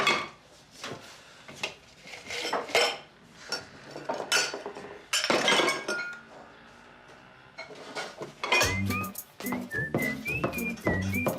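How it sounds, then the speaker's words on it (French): Dishes clink and clatter intermittently as they are handled and stacked, with scattered sharp knocks and a few high whistling tones near the end. "Je range la vaisselle sale"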